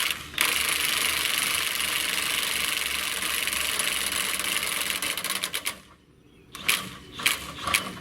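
A DeWalt DCF899B 20V cordless half-inch high-torque impact wrench runs at its second speed, a loud continuous rapid hammering rattle for about six seconds that stops abruptly, followed by a few short bursts.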